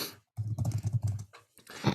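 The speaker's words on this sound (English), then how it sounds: "at this moment, Aaron is typing furiously" Rapid, busy typing on a computer keyboard, a dense run of close clicks and clacks that pauses briefly before a final burst.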